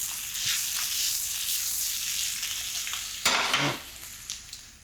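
Mushroom risotto with parmesan is tossed in a pan, a soft steady sizzle and scrape running throughout, with a sharper burst of clatter partway through as the pan is shaken.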